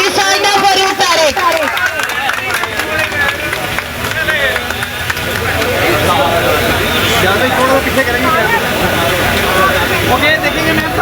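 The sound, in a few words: audience applause for chief guest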